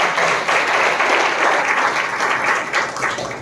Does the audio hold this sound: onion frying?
no